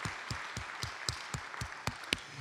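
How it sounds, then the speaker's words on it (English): A church congregation at a vision celebration applauds, with distinct separate claps in a loose rhythm and scattered cheers, fairly quiet and a little distant. "So I would invite you to give them all a round of applause."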